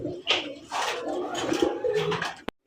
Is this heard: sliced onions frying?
no